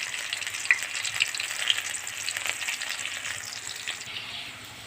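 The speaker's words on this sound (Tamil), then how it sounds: "நம்ம போட்டிருந்த காலிஃப்ளவர் வந்து ரெடி ஆகிட்டு சரிங்களா நல்லா பொரிஞ்சிட்டு" Cauliflower 65 deep-frying in hot oil, a dense continuous hotel-style sizzle with small pops and crackles, close and fairly loud, no voices.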